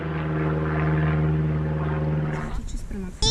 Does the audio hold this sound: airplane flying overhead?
yes